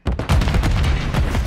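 A grenade goes off in Call of Duty Modern Warfare 3 ranked play, a loud, close, booming blast with a quick second burst that rumbles on briefly.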